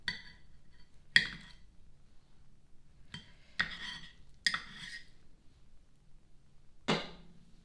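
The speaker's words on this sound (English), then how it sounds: "So I slice them like this, kind of lengthwise, and I cut the ends off as much as I can" Knife slicing lengthwise through cooked yams on a cutting board, giving a handful of separate sharp taps and scrapes at irregular intervals with quiet pauses between, close and fairly soft, with no talking.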